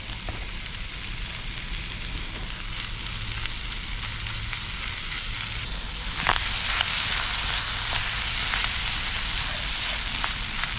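A chicken and vegetable stir-fry sizzles steadily in a pan over a campfire, a loud continuous hiss that jumps louder partway through as food is stirred, with no talking.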